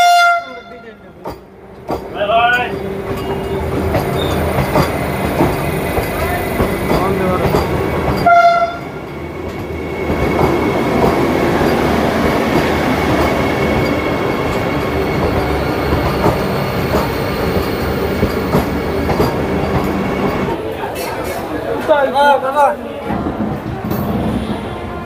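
An Amrit Bharat Express train pulls into Bardhaman Junction with a loud, continuous rumble of wheels and carriages, squeals and clatter along the rails and tonal horn blasts near the start and end, and a voice speaks at times over the din.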